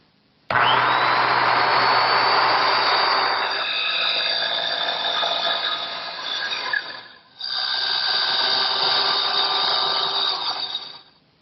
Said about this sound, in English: I'm going to use a small circular saw and a square to help guide me to make the crosscuts.